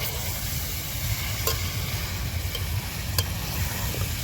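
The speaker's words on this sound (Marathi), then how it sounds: "पहिला कांदा तळायखाली वरून मटण टाकले" Goat mutton frying over fried onion in a pot, a steady close sizzle with a few sharp stirring knocks scattered through.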